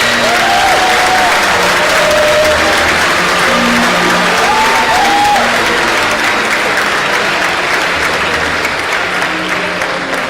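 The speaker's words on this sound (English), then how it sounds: "please join me to applaud Professor Aderemi Olabisi Aisien" A lecture audience claps loudly and steadily to welcome a woman professor, with dense clapping throughout and a few faint voices and tonal sounds mixed underneath.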